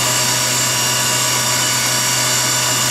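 A Haas Super MiniMill CNC vertical machining center spindle runs at 7,500 RPM, a steady close mechanical whine with a constant low hum beneath, loud and unbroken throughout.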